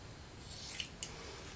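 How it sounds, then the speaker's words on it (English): Fabric scissors cut up the back of a cotton t-shirt, giving two short, crisp snips close to the microphone against a quiet background. "So we'll go in with our fabric scissors,"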